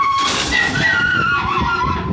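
Freight train arriving at a limestone loading siding, with a continuous loud metallic wheel or brake squeal that wavers in pitch over a rumbling background.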